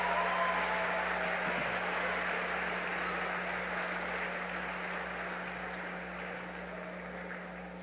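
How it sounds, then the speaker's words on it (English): A crowd applauding at a Coe pep rally, a broad, steady roar of clapping that slowly tapers over eight seconds, with a low steady hum beneath. "that is worthy of applause"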